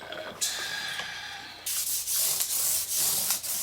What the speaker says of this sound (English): to 1000 grit sandpaper and I'll buff them from there